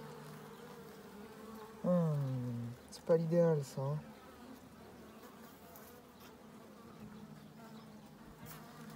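Honeybees hum steadily inside an opened horizontal beehive, a low, continuous buzz close by, briefly under someone speaking quietly.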